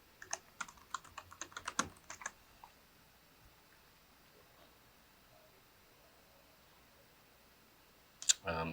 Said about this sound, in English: I'll just go ahead and I'll type some stuff in here